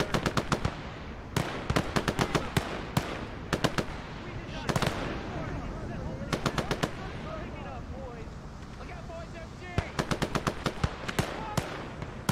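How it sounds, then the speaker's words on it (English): Enemy machine gun fire in the World War II game Gates of Hell rattles in repeated short, sharp bursts, with scattered distant shots, explosions and voices in between. "Objective, enemy MG."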